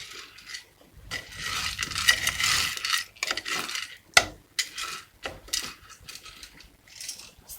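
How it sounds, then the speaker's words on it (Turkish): Popcorn kernels are stirred in a cooking pot by a five-year-old cook, giving a busy, close rattling and scraping of hard kernels against metal, with a sharp clack near the middle and uneven bursts after. "Ondan sonra popcorn ilave ederiz. Götürüp karıştırırız."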